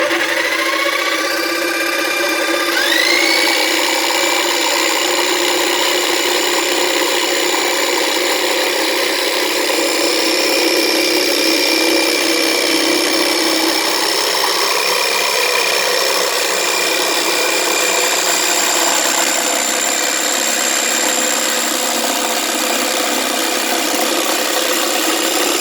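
A jigsaw fitted with a sawdust blower cuts through wood, giving a loud, close, continuous power-tool whine with a steady rasping buzz that runs unbroken for the whole stretch.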